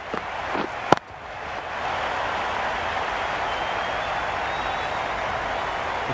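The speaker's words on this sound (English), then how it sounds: "The crowd are really getting quite raucous." Raucous cricket stadium crowd in Cricket 22, a broad sustained roar of distant voices and cheering holding steady after a sharp crack near the start, with no talk over it.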